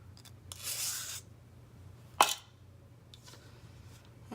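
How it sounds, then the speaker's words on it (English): A hairbrush sweeps through wet hair onto a roller, giving soft brushing rasps, then a sharper scrape, with further faint strokes in a quiet room. "I'm gonna brush them flat onto the roller."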